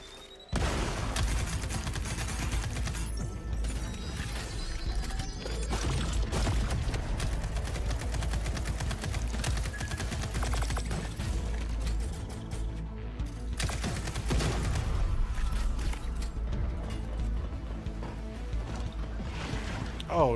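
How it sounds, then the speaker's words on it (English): Gunfire and a thruster grenade explosion against a heavily armored turret in a sci-fi shooter video game: a dense, continuous wall of rapid shots, blasts and rumbling impacts, loud and sustained throughout, with a voice talking over it. "This turret is protected with heavy armor. Let's toss a thruster grenade to deal massive damage."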